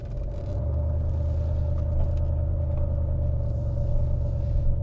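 Car with a failing catalytic converter driving along, a steady low rumbling engine drone with a constant hum, close and moderately loud, without talk.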